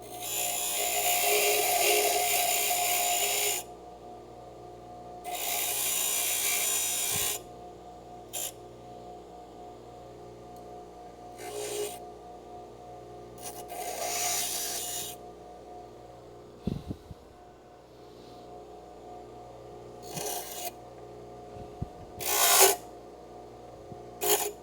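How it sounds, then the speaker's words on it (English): Bench grinder grinding and thinning a metal part, heard as several harsh bursts of loud hissing grinding with pauses between, over a steady low motor hum, alone and close. "I'm gonna put it in the bench grinder. I just gotta straighten it out and make it just a smidge thinner"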